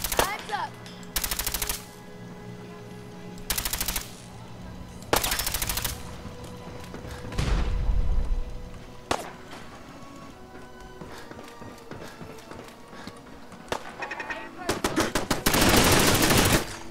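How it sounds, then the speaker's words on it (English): Automated turret in Fallout 4 firing machine-gun bursts, several loud rapid volleys separated by pauses, with quieter game ambience and occasional footsteps between them. "There's another turret"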